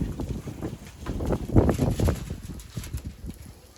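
Gusty wind buffets the microphone outdoors, a low rumbling roar that rises and falls steadily, loudest in the middle, with no one talking.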